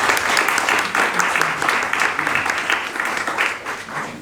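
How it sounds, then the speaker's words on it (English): Audience applause after a scientific talk at a DeSci conference in Berlin, a full crowd clapping steadily in pulsing waves, fairly loud and close, with some murmuring mixed in. "Round of applause."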